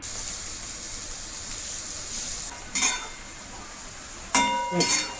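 Ridge gourd pieces sizzle steadily as they stir-fry in hot oil with garlic, a constant hiss broken by a few sharp clinks of the spatula against the pan near the end.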